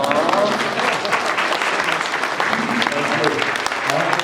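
Lively applause from a convention panel audience at a Transformers fan event, loud and continuous with scattered voices mixed in throughout.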